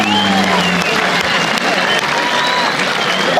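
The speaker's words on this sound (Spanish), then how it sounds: "Público, ¿por qué no le aplaude?" Rodeo crowd at a jaripeo in Tamazulapam del Espíritu Santo, applauding steadily, a dense wash of clapping mixed with cheering voices and background music throughout.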